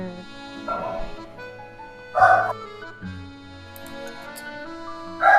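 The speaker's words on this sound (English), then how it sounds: "So the echoing dog bark" A dog gives three separated barks, each short and sharp with a ringing echo tail. The last bark is the loudest, over a quiet background.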